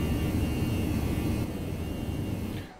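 Steady, loud airliner engine drone in X-Plane 11, a Boeing 737 or Airbus A319, with a broad low rumble and a faint high whine that holds constant before easing slightly at the end.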